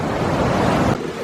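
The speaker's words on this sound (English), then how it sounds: "Boulder Creek. You can really hear the noise in here." Boulder Creek rushes through Eldorado Canyon in Colorado, a dense, steady roar of fast-flowing water heard close and loud for a brief moment.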